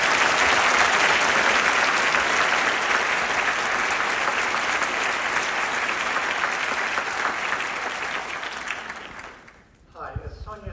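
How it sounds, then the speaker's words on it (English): Warm audience applause welcoming a lecture host, loud continuous clapping that slowly thins and dies away near the end, followed by a brief moment of voice. "let's give a warm round of applause for your host"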